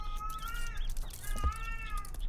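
A cat cries in a video game, giving two drawn-out, wavering meows over a steady low ambient rumble, with no talking.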